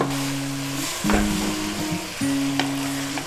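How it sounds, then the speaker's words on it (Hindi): Minced mongray keema frying in a pan with ginger-garlic paste, turmeric and salt, a steady close sizzle with occasional stirring scrapes, no talking. "भूनना है इसे"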